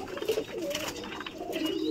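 Pigeons of a slender build coo in a few low, throaty rolls, close and moderately loud, with faint background noise.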